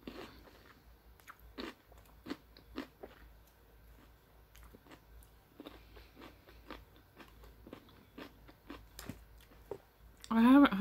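Crunchy bites and chewing of cucumbers sound close to the microphone at an uneven pace, with soft mouth noises between bites, and a louder burst near the end.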